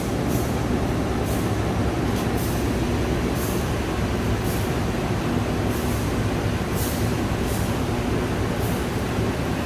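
Singasari executive train of Indonesian Railways running, a steady loud rumble of wheels on track heard from inside the coach, with faint periodic clacks of rail joints and no voices.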